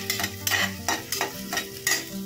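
Onion sautéing in a pan while a spoon stirs it, with a steady soft sizzle and a brisk rhythm of scraping strokes about twice a second, close up with no voices.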